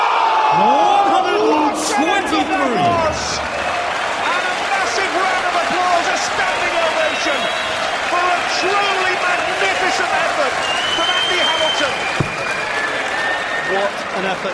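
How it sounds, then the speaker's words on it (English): Big darts crowd at the PDC World Championship applauding and cheering after a nine-dart attempt, a loud sustained wash of clapping and whoops with whistles, under ongoing commentary. "And a massive round of applause,"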